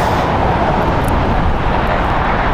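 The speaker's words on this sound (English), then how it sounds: "Southwest Airlines Flight 1881 going to Tucson. This is a Boeing 737-7, 21 years old" Southwest Airlines Boeing 737-7, 21 years old, departing LAX for Tucson in fog, a steady, loud broadband engine roar that holds without a break throughout.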